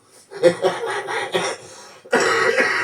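A short series of raspy coughs and throat clearing, a few bursts then a pause and one more longer cough, close and fairly quiet.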